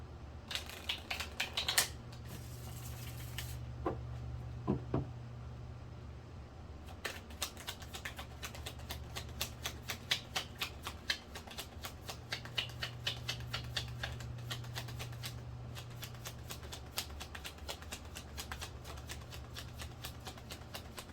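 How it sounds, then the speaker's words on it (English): Tarot cards shuffled by hand, a steady run of quick papery riffles and soft flicks with a low hum underneath and a few brief pauses. "Oh, yeah, we're going to pull cards now."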